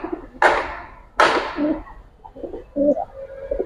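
Pigeons, Giribaz and coloured show birds in moult, give soft cooing calls in a few short bursts with quieter coos between them, close by and with no talking.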